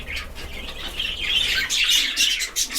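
A young budgerigar chirping in a cage, a steady stream of rapid, bright twittering calls close up, with no talk.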